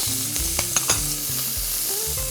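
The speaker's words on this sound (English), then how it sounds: "And I'm gonna toss in my onions, carrots," Onions and carrots sizzle as they sauté in a hot Dutch oven for short rib mac and cheese, a steady crackling hiss broken by a few sharp pops and stirring clinks, close and alone.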